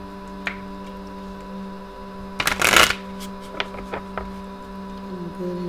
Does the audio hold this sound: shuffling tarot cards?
yes